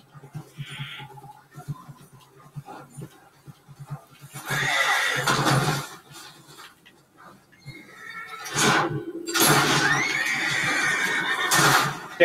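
Horses in Red Dead Redemption 2 whinny and neigh, with a shrill call early on and louder, longer bursts in the second half, over faint background game noise.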